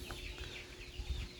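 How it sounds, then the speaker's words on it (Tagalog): A flock of farm chickens and chicks clucks and peeps steadily nearby, a busy overlapping chorus of soft clucks over low background noise. "pakita ko pala sa inyo yung aming mga sisiw or manok na ba, ano, super dami na"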